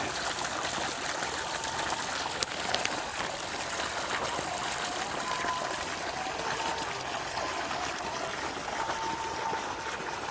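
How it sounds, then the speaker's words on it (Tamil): Water gushes from a motor pump into a rice paddy in a village, a steady, unbroken rushing and splashing that stays loud and even throughout with no voices. "மோட்டர் போட்டிருக்கா, தண்ணி கொட்டின்னு இருக்குங்க."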